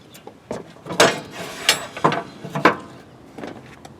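An MTD mower mulch deck being dropped into position, a series of sharp metallic clanks and ratcheting knocks in uneven bursts, close and fairly loud, with no voices.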